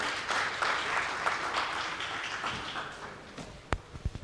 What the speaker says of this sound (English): I believe the clap signifies that you are satisfied with the update.